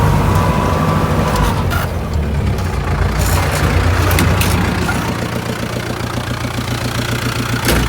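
A heavy diesel engine idles loudly and close by, a steady rumbling throb with some clanking and rattle on top, no voices.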